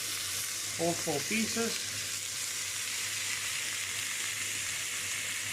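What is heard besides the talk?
rump steak frying in a pan on maximum heat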